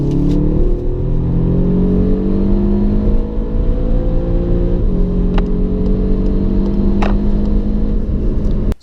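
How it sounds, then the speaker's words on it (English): A Seat Leon ST Cupra R is accelerating hard on a freeway, with a loud, steady engine drone rising in pitch through the gears and brief dips at the gear changes, heard from inside the car. "Now let's see how this Cupra accelerates."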